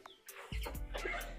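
Village poultry-farm chickens cluck close by, giving a few quiet, short calls against a faint background.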